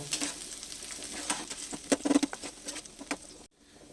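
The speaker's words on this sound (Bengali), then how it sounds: "পেঁয়াজটাকে এখন একটু আমি লাল লাল করে ভেজে নেব।" Onions fry in a pan while being stirred, giving a patter of crackles and sharp scrapes over a low sizzle, with a louder burst around the middle before the sound cuts off abruptly near the end.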